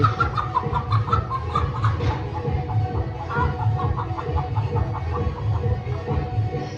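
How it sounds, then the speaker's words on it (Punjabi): A hen clucks and squawks repeatedly as it is chased and caught in a poultry yard, steady agitated calls near the listener over a low background hum. "ਜੈਕੀ ਵੀ ਆ ਗਿਆ ਉਧਰ ਕੋ ਮੁਰਗੀ ਫੜ ਰਹੇ"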